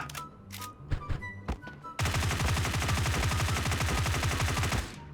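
In Sausage Man, a few separate gunshots ring out, then a sustained burst of rapid automatic fire lasts about three seconds during a jump-shooting move, loud and close, and cuts off abruptly.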